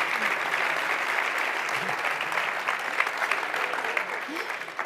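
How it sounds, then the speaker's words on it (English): A crowd gives sustained applause for MotoGP rider Maverick Viñales after news of two more years with Yamaha, a dense, even wash of clapping throughout with faint voices underneath. "Ladies and gentlemen, big round of applause"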